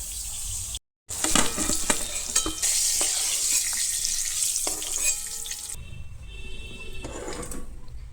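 Pointed gourd (potol) frying in a pan, giving a loud, steady sizzle with stirring scrapes, close by, with running water from a tap in the background.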